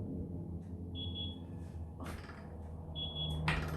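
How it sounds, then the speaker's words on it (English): An oven timer gives two short, faint high beeps a couple of seconds apart in a quiet kitchen, over a low background hum and some light handling noise. "That's my oven timer."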